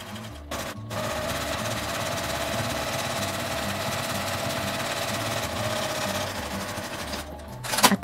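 A sewing machine stitches thick #8 canvas for a tote bag with a size 14 needle, running as a steady, loud mechanical whir for about six seconds between brief pauses at the start and end.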